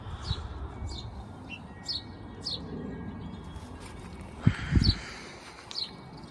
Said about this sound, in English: I'm being chewed out. The birds don't want me over here.